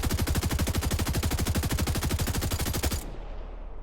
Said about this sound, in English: Fully automatic functions just as you would expect, shooting like a normal assault rifle.